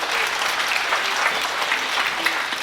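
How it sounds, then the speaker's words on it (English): An audience at a songwriters' showroom event applauds a performer, dense steady clapping filling the room with no talk over it. "Give him a big round of applause."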